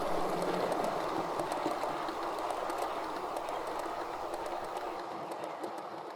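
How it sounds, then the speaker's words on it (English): A model train of modified Hornby and Bytham cars rumbles steadily along its track with a constant whirring hum and faint rhythmic clicks, gradually easing toward the end. "the train a mixture of modified Hornby and Bytham cars, weathered by Tim Shackleton."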